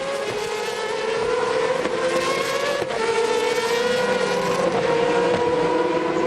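GP2 race cars at Istanbul Park, Turkey, in a 2005 Sunday sprint race, with a loud, continuous high-revving engine whine rising and falling as several cars race past at close range.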